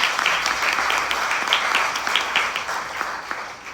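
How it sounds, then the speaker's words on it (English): An audience applauds a guest speaker at a Jayanti celebration honouring Chhatrapati Shivaji Maharaj, Mahatma Phule and Dr. Babasaheb Ambedkar, a sustained, even wash of many hands clapping that slowly thins toward the end. "Give him a big applause."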